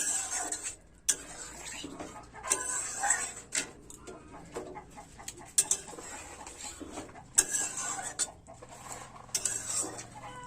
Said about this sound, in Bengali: এক মিনিট ভালোভাবে নাড়াচাড়া করে নেব